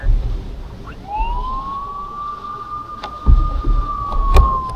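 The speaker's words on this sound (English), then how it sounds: "they got the sirens going off again, as y'all can hear" A distant siren wails in a long, rising and sustained tone over outdoor background noise, with a few thumps and knocks nearby.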